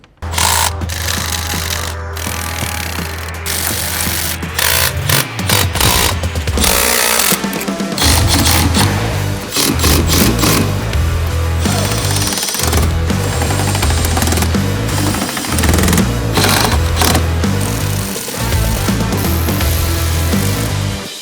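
Hose clamps on CVFab Titan V2 intercooler charge pipes being tightened on a Ford Expedition with a power tool, loud rattling bursts that start and stop repeatedly, close up and with no speech.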